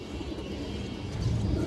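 Pigeons, including silver-colored birds, cooing softly in a loft, low murmuring coos under a faint background hum, fairly quiet and close.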